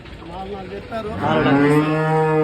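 A cow lets out a long, loud moo close by at a cattle market, rising in strength and holding to the end over a low background hum.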